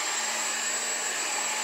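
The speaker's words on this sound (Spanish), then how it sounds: "No tiene cable la aspiradora y solo es este botón y..." A Dyson cordless vacuum cleaner running, a loud steady high-pitched whirring whine with an airy rush, constant and close with no talk.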